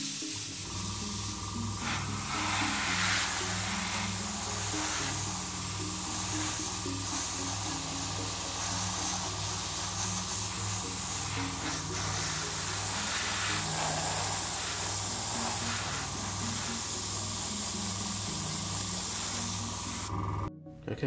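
An airbrush sprays NATO black base coat paint onto a Millennium Falcon model kit, a steady close hiss running nearly unbroken before stopping abruptly.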